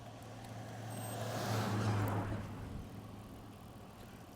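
A car overtakes cyclists on a road, its engine and tire noise swelling to a peak mid-pass and then fading away. A low engine drone sits under the passing sound, and nobody speaks.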